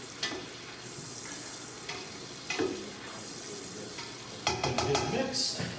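Onions dropped into a pot of cooking bacon for a one-pot meal, steady sizzling and frying with scraping stirs and a few clanks of a utensil against the pot.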